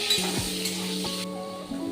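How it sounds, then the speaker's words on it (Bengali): Salted eggplant pieces fry in oil with a steady, close sizzle, while metal utensils clink and scrape against the pan and a few ringing tones sound through the hiss. "সামান্য লবণ দিয়ে দিলাম বেগুনগুলো ভাজার জন্য।"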